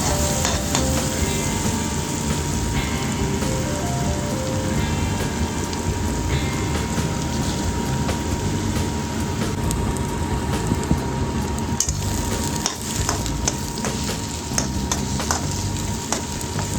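Dhaba-style dal tadka of mixed moong, urad and masoor dal with turmeric and egg stirred in a frying pan, a dense, loud, unbroken sizzle with spatula scrapes throughout, heard close and alone.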